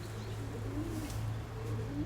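A pigeon coos softly in a breeding loft, a low steady murmur under faint background hum, with no voices.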